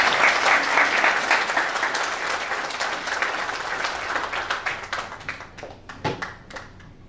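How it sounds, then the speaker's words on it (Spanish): Sustained applause from a church congregation greeting a pastor, dense steady clapping that gradually thins and fades toward the end. "Andrés Camarena con un aplauso."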